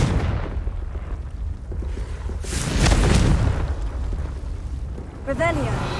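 A Confringo blasting curse explodes in Hogwarts Legacy: one loud, booming burst with a rumbling tail in the middle of the clip, over steady game ambience, followed by a brief chirping magical tone.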